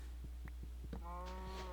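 A cow in a castle-building sandbox video game gives a short low moo with a harmonic tail, loud over a steady low hum, with faint clicks from game play before it.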